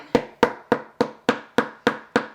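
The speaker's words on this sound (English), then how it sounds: "I'm going to just take the end of this screwdriver and" The end of a screwdriver taps staples down into fabric on a DIY vanity chair, giving eight sharp, evenly spaced knocks close up, with no talking.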